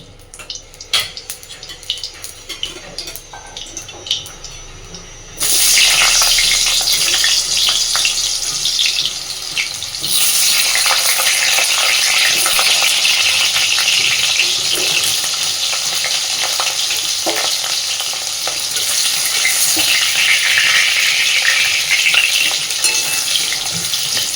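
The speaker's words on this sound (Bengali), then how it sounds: "এই একই তেলে এবার আমি আলুগুলোকেও সুন্দরভাবে ভেজে নেব।" Potatoes go into the same hot oil just used for frying eggs, bursting into a loud, steady sizzle after a few quieter seconds of faint clatter, then swelling into a dense, continuous crackle.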